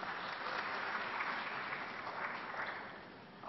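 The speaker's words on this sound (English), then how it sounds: "Please, a big round of applause for him" Studio audience applause on a news talk show, a dense, even patter of clapping that holds steady for a few seconds, then tapers slightly at the end.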